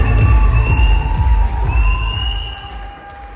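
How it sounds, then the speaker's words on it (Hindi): A large audience at a live event for a West Bengal to Goa trip greeting a guest with loud cheering, whoops and clapping, dense and sustained, gradually easing off toward the end. "एक बार जोरदार तालियों से स्वागत किया जाए"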